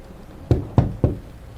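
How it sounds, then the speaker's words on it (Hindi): Three sharp knocks on window glass at a steady, deliberate pace, close and distinct against a quiet background, used as a horror story effect on a rainy night. "ये ऐसी आवाज़ थी जैसे कोई कांच को खटखटा रहा हो"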